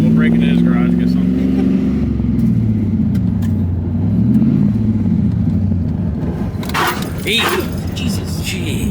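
LS-swapped S10 pickup engine revving and rising and falling in pitch as the transmission slips out of first and fails to catch second gear, close and loud, with people talking over it and a few sharp clunks near the end.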